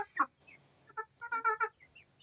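Hens cluck softly and intermittently in a quiet setting, a few short, fairly faint calls grouped in a loose rhythm.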